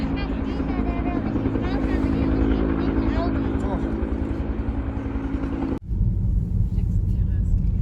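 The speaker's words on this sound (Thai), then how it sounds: "กว่าจะได้ต้องใช้เครื่องบินนะคะ เฮลิคอปเตอร์เนาะ เพื่อขนของนะคะ" Helicopter hauling materials for rock and snow barriers in the Austrian mountains, a close, heavy rotor and engine rumble that runs continuously, briefly dipping before resuming just as loud.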